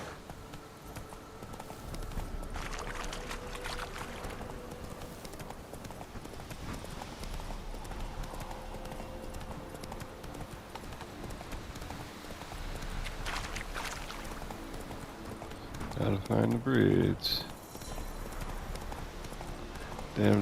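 Horse hooves clip-clop steadily through a ride in The Witcher 3, a continuous rhythmic patter under game music and ambience, with someone talking briefly over it.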